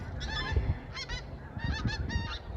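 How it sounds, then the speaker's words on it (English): Several migrating geese honk in quick bursts along a canal, overlapping calls coming in clusters against a low background rumble. "We're seeing a lot of geese starting to migrate these days."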